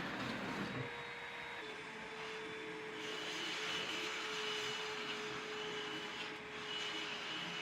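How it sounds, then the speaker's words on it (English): Compressed air blasts dust out of used window AC unit filters, a steady loud whooshing hiss with a high whine running under it, pausing only briefly near the end. "I wanted to get these filters blown out because these aren't brand new units"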